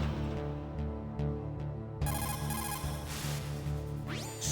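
Electronic ringing of a codec call to Otacon in the stealth game Metal Gear, repeating synthetic tones that shift into a brighter chiming pattern, loud and clear with no talk.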